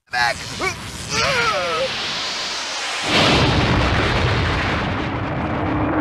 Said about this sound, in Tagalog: Nakita ni na Dr. Brief ang malakas na pagsabog sa nakakabit na kamera sa spaceship at sobrang nag-alala